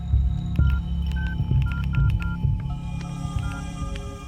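Telephone dialing tones ring out as a phone is used for an urgent call at a roadside dhaba, a quick series of distinct beeps over a low throbbing hum.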